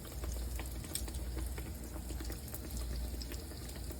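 Buttermilk beignet dough sizzles in hot oil with a steady, fine bubbling crackle that stays even and fairly soft throughout.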